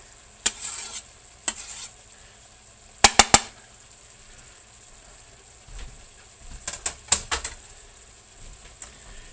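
Chili with diced onion cooks in a pot as its water boils off, giving a faint, steady sizzling hiss broken by scattered sharp clicks and brief scraping bursts from stirring.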